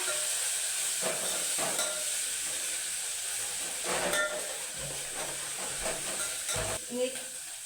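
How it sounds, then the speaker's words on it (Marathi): Spice masala roasts in a pan for a spicy village fish curry, a constant hissing sizzle with occasional soft scrapes and clicks of stirring, with no talking. "मसाला मस्त भाजून घ्यायचा"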